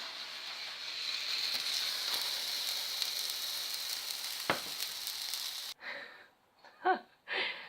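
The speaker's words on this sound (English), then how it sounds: "That's the sound of my pasta boiling over." A pasta pot boiling over on the stove spits and sizzles in a continuous bubbling hiss, then cuts out near the end, leaving a few short clattering noises.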